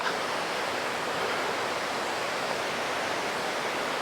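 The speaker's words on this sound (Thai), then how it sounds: "มาถึงแล้วนะครับ น้ำตก แม่ยะ" Mae Ya waterfall in Chom Thong, Chiang Mai, roars as a steady, dense rush of falling water, loud and continuous throughout with no voices over it.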